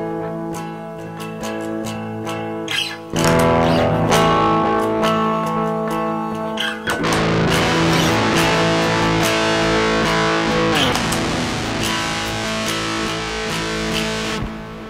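An electric guitar played through a Klon Klone overdrive pedal boosting distortion plays loud, sustained, saturated chords, starting with a short picked intro and then ringing on with thick, gritty tone.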